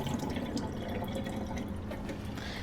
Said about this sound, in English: I'm just gonna drain the water off of these now.